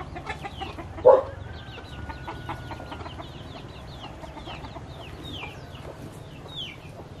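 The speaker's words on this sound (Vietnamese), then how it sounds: "Gà, nuôi gà cũng thả rong luôn" Free-range chickens clucking outdoors near a lone house in a forest, soft scattered clucks and short calls at moderate distance, with one louder squawk early on over a quiet rural background.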